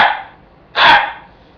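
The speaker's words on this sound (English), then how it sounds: "Gray fox is going to be a raspier, deeper bark. It's more of a threatening bark." A gray fox gives two deep, raspy barks, a fading one at the start and a louder, longer one after a short pause, heard alone with no other sound.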